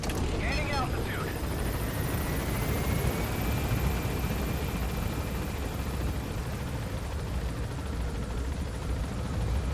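A helicopter in Metal Gear Solid V: The Phantom Pain gains altitude with a steady, loud rotor and engine roar that fills the whole stretch, while a player talks over it.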